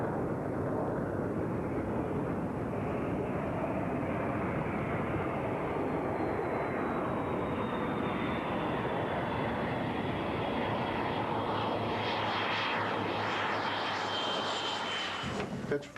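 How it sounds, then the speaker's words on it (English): Lockheed F-117 Nighthawk jet engines roar in a loud, continuous broadband drone that holds steady, with a thin rising whine building and brighter hissing surges near the end. "To controllers, an F-117 is like any other plane. It goes up, it comes down, it taxis away."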